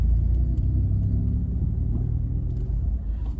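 A car idles and pulls away in first gear during a driving lesson, giving a steady, close, low engine rumble that barely changes over a few seconds; no voices.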